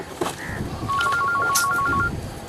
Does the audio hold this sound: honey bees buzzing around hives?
no